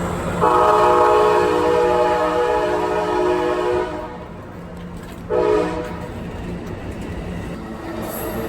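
An Amtrak train on the Southern Pacific Coast Line sounds a loud, sustained horn blast close by, then a second short blast, with the low rumble of the passing train underneath.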